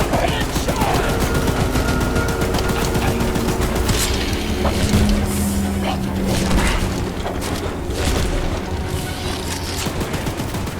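Continuous rapid fire from a mounted gun in the horror video game Choo Choo Charles, dense booming fusillade throughout with rumbling impacts, loud and unbroken.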